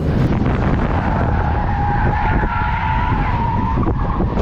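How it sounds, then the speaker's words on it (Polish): Race car tires squeal loudly and continuously over roaring engine noise during a women's race on a track, the high screech wavering in pitch before fading slightly at the end. "Dziewczyny jadą teraz na krawędzi, opony piszczą"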